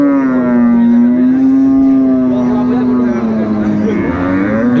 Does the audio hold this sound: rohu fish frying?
no